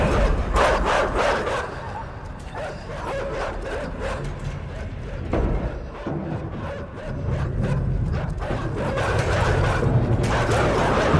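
Dogs bark and yip in the video game Inside. Repeated sharp barks come over a rumbling, mechanical background, loud and close, with brief quieter pauses between bursts.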